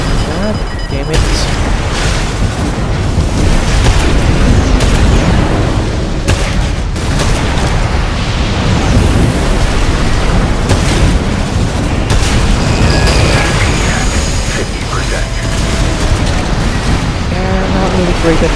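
Missile explosions from the Armored Core 6 mech combat game boom and crackle almost nonstop during an online arena fight, a loud, dense barrage of blasts and gunfire with a voice talking over it.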